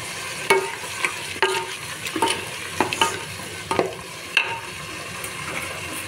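A spoon stirs garam masala through a dish in a pan, sharp scraping knocks every second or so over a low background sizzle; no one speaks.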